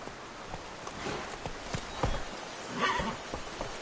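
Roach the horse galloping in The Witcher 3, with rapid hoof clatter running continuously at moderate volume alongside a few snorts and whinny-like calls, over busy game background noise.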